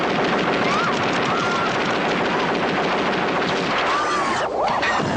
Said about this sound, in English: this prototype robot comes into the room and starts shooting at a victim